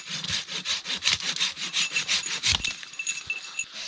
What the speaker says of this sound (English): So just gonna cut a stick now to tie my snare off to.